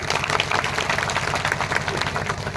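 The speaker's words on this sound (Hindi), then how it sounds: "तो ऐसे बाबा साहब अम्बेडकर के लिए जोरदार ताली होनी चाहिए कि नहीं?" Applause from a gathered crowd at a martyrdom-day commemoration honouring Babasaheb Ambedkar, dense steady clapping with crowd noise, loud and continuous.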